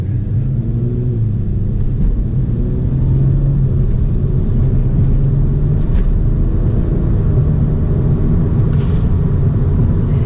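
A BMW 335is with an aftermarket blow-off valve and no tune, heard from inside while driving: a steady, loud, low engine drone and road rumble that holds throughout, with faint higher whooshes from the turbo.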